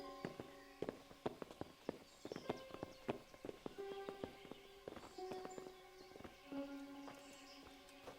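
Several horses clip-clopping at a walk, a busy overlapping patter of hoof strikes close by with faint background activity.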